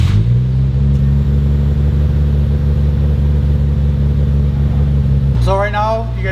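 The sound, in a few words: Nissan R33 GTR engine idling high on Haltech base map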